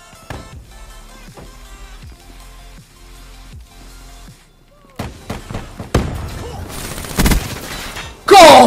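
Gunfire in the video game Black Ops 3: a run of sharp shots and bursts, sparse at first and then dense and loud, ending in a heavy blast, with game music and effects underneath.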